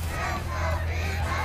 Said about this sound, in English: The crowd is in a state of rapture!